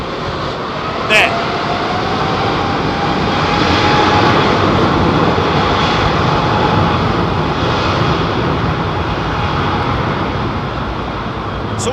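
A Boeing 787 jet takes off at London Heathrow with a steady, loud engine roar and broad hiss that swells slightly and holds for the whole stretch, with a voice talking under the noise.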